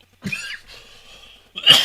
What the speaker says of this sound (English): has to clear his throat